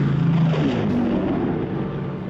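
A Japanese patrol airplane passes over an island, a steady, loud engine drone that fills the whole stretch with a slight shift in pitch partway through, with no talking.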